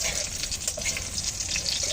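Crab-shaped pitha frying in oil in a pan give off a continuous close crackling sizzle, busy and even throughout, with no voices.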